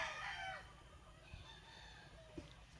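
A purebred SBR gamefowl rooster crows once near the start, a loud, drawn-out call fading over roughly half a second, followed by quieter yard background with a faint distant crow later.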